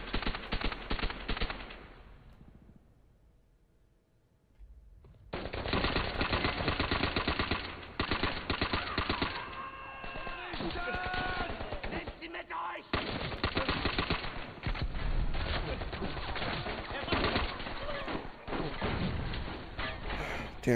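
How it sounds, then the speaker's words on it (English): Enemy gunfire in Call of Duty: World at War, dense bursts of machine-gun and rifle fire that drop away briefly then return loud and sustained, with a voice shouting over the battle. "Where the fuck is the enemy fire coming from?"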